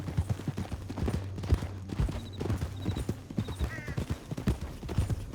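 Horse hooves clip-clop steadily in the video game Red Dead Redemption 2, a close rhythmic series of thuds with a brief whinny and faint distant gunfire, no voices.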